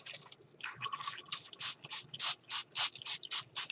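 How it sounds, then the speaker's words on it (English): Orange colour spray paint hissing onto a junk journal piece in repeated short bursts, about nine evenly spaced close spurts following a few fainter initial sprays. "I'm going to spray it, see if it works."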